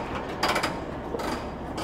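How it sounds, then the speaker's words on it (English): A truck trailer being opened gives off short metallic clunks and rattling latch mechanism sounds in two quick bursts, fairly close and moderately loud. "Get the trailer opened up."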